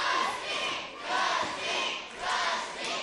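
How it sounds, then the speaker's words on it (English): A wrestling crowd at a cage match roars and chants in rising and falling swells, loud and dense throughout with no clear voices standing out. "Crowd firmly behind Dillinger"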